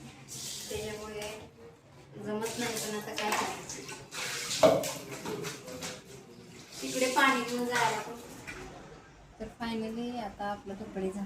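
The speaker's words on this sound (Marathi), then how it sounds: "आता मी कपडे धुते." Clothes being washed by hand in a small combined bathroom and toilet, with splashing and sloshing water and a running tap, while someone talks throughout.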